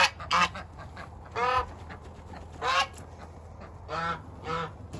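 Pet ducks give a handful of separate loud quacks spaced a second or so apart, close by over a quiet background.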